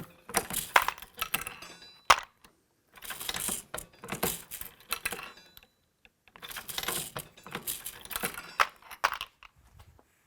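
A Lee Pro 1000 progressive press loading 45 ACP cartridges, with repeated bursts of metallic clanking and clinking as the handle is cycled and finished rounds drop into the bin, separated by short pauses, close and fairly quiet.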